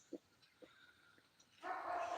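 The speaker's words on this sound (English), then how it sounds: "It's the neighbor's dog barking." A few soft, distant dog yips spaced apart, followed by a louder steady rush of noise at the end.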